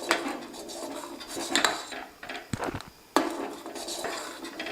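A spoon clinks and scrapes against a pot while onion is mixed into jowar ambali, a few sharp metallic knocks and scrapes close up with quiet gaps between.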